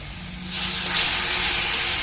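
Kathiyawadi-style dal is poured into a hot tempering, setting off a sudden, loud, close hiss of sizzling steam that swells about halfway in and holds steady to the end.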